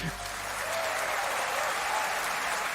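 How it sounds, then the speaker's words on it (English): Crowd applause closes out a track: dense, steady clapping from a large audience carries on without a break, loud and alone. "it ends with like this applause at the end."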